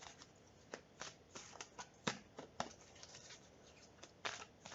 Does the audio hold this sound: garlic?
no